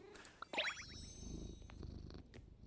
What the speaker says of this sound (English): Let me pet you. Kitty, good kitty. You're such a good kitty.